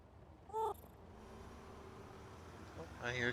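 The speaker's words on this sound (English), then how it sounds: "I hear a cat." A cat in the video game Construction Simulator gives two short, high meows, one near the start and a louder, longer one at the end, over a quiet background hum.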